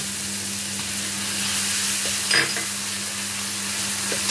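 Tomatoes frying in a pan with a steady, close sizzle throughout, a brief clatter of stirring near the middle and a low constant hum underneath; no one speaks.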